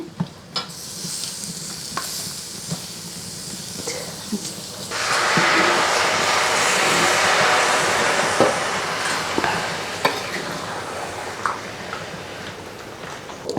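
Chicken added to well-fried masala in a pan and stirred: scraping utensil strokes and clicks over a low sizzle, and halfway through a louder, steady frying hiss begins and continues under the repeated stirring.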